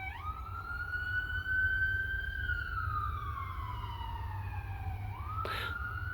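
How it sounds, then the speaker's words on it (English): A wailing emergency vehicle siren sweeping slowly up and down in pitch, clear and moderately distant over low traffic rumble, with a brief burst of noise near the end. "Sirens."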